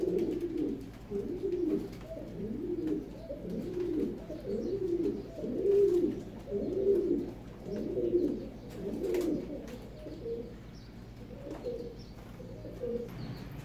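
Pigeons held for sale coo in a steady series of soft, low, rolling calls repeating every second or so, fairly close and alone with no talk.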